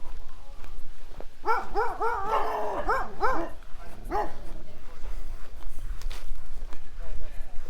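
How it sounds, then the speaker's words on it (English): Dogs barking from a yard near a lakeside walking route at Last Mountain Lake, a run of several rapid barks in a cluster, then a lone later bark, mid-distance, with a person talking and footsteps throughout. "Or dogs. They never like it when you walk by their yards."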